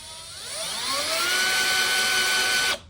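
A power tool spins up with a rising high-pitched whine while fitting a replacement clutch basket on a Kings Mountain Indian motorcycle, holding a steady loud scream close by before cutting off abruptly.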